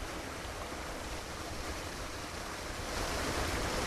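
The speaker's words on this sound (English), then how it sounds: "having the flow of the water" Water pouring steadily down a waterfall outdoors on a spring day, a dense, even rush of white noise that swells slightly louder near the end, with no voices.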